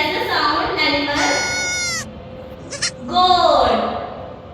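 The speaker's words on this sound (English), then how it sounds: "Goat." A goat bleats in a lesson on guessing animal sounds: loud, wavering bleats, close to the listener, with a teacher's voice talking around and between the calls.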